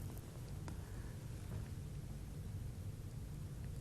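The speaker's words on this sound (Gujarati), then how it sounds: "દ્વારકામાં ગાજવીજ સાથે કમોસમી વરસાદ" Thunder rumbles low and steady through unseasonal rain in Dwarka, a continuous broadband wash of rain and wind noise with a faint distant roll underneath and no voices.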